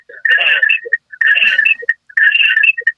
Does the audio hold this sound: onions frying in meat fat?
no